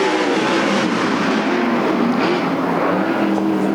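A pack of winged sprint cars roars off the start of a race at Sunset Speedway Park, a loud, continuous blended engine drone that fills the space without a break.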